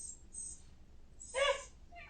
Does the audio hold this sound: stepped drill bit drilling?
no